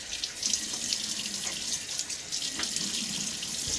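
A bathroom tap runs steadily into a sink as water is splashed on the face before a shave, a close, continuous rushing stream with small splashy flutters throughout.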